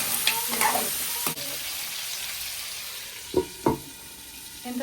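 Crab pieces frying in a pan for Telangana-style crab curry, a steady soft sizzle broken by a few sharp scraping stirs near the start and two more toward the end.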